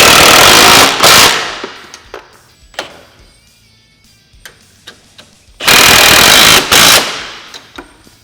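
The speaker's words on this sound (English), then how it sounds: "Now we're going to fully tighten our hardware." An impact wrench tightening front end brace bolts on a Honda Talon 1000R bursts into loud, rattling impact bursts twice, separated by a quiet stretch of small clicks and knocks.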